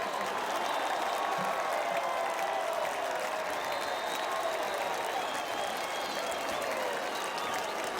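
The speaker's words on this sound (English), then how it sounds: "You hear the crowd clapping it up" A stadium crowd at an FCS college football quarterfinal between Montana State and Stephen F. Austin claps in a steady, distant wash of applause, with faint voices mixed in.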